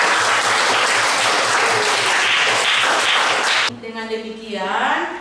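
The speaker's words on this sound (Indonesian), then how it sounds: "Kita bisa aplaus" Audience in a classroom applauding, a dense, loud burst of steady clapping that stops abruptly as a voice begins speaking.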